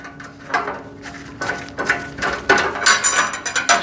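A screw is driven and tightened into a rivet point on a bin organizer parts storage rack, giving a series of ratcheting clicks in uneven bursts that grow louder and quicker toward the end.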